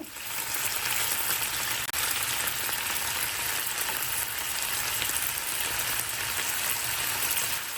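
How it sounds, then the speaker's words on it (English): Sous vide steak bites reheating in a pan on the stove for beef and broccoli, giving a steady, close, loud crackling sizzle that runs unbroken throughout with no voices. "So I'm gonna heat up the steak bites in this pan"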